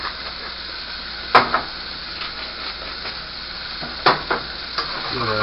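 Beef stew ingredients seasoned with salt and pepper being stirred and mashed in a sizzling pot for a low-carb Burgundy beef stew, a steady frying hiss broken by a few scraping, clattering strokes, close and fairly loud.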